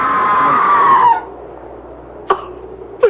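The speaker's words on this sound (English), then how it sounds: "That was a scream, Sir Leonard." A long, high-pitched scream from a 1975 radio mystery drama rings out for about a second and bends downward as it fades, followed later by two short, sharp knocks.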